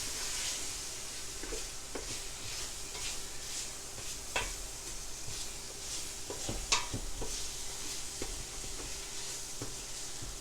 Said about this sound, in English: We're going to stir this in.